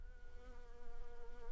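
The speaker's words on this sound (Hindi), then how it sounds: "इधर तो मच्छर भी बहुत है, तो मच्छर की वजह से नींद भी नहीं आ रही।" Mosquitoes buzzing at night, a thin steady whine with wavering pitch that drifts slightly louder and softer, close by and faint, with no talk.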